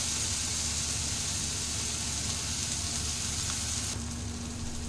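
Tomatoes fry in a pan with a steady, close hissing sizzle and a faint low hum underneath, continuous with no voices.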